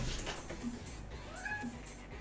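A pet cat meows faintly a couple of times in a room, a soft rising cry standing out over low background hum.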